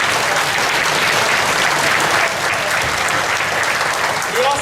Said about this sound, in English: Let's give a round of applause for our family.